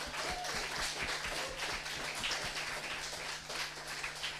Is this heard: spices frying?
no